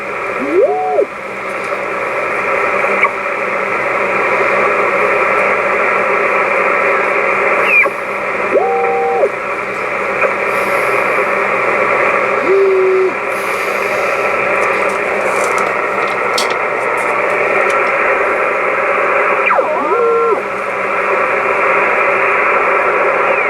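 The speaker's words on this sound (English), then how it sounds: "That will be interesting to see what 10 meter sounds like." Ham radio receiver tuned to a quiet 10 meter band, steady hissing static with low hum and a few faint, brief tones drifting through, no voices.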